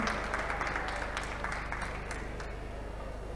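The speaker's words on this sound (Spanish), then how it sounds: "A todos ellos los recibimos con un aplauso" Scattered applause from an audience, moderately loud and dense, tapering off slightly over a few seconds.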